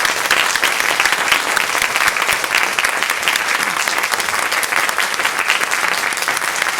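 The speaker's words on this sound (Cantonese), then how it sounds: "我哋咧以熱烈嘅掌聲歡迎我哋兩位今日嘅對談嘉賓阮兆輝先生同埋桑田貴志先生" A large audience applauds warmly and continuously to welcome two guests at a cross-cultural talk between a Cantonese opera master and a Noh theatre master. The dense, steady clapping runs throughout with no voices.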